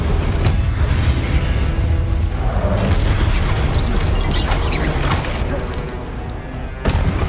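Incendio fire spells blast repeatedly during Hogwarts Legacy combat, filling the scene with a dense, loud roar of crackling explosions. A sharper burst lands near the end.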